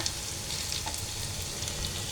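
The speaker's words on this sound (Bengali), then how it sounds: "পেঁয়াজটা ভাজা হয়ে গেছে" A soft, continuous sizzle of onions frying in a pan, steady and fairly quiet, with faint crackles and no voices.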